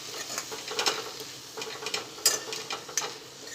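Fenugreek leaves stirred in a pan with red chili powder, a soft sizzle under scraping strokes of a spoon, with a few brighter clinks against the pan.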